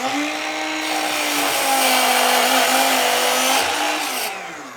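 A DeWALT 7-¼-inch cordless miter saw with a thin-kerf 60-tooth blade spins up and slices through a dry piece of cherry wood, a loud whining cut lasting about four seconds before the motor winds down.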